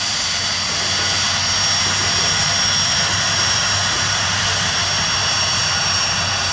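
A Learjet 45 business jet's engines roar steadily during takeoff, a loud continuous broadband rush with a low hum underneath, no voices.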